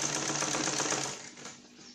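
A sewing machine runs steadily, stitching a seam on a blouse, its rapid mechanical needle chatter close and continuous before easing slightly toward the end.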